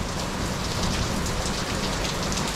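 Tropical rain falling steadily in Thailand, a loud, even hiss of drops hitting surfaces close by, unbroken and without voices.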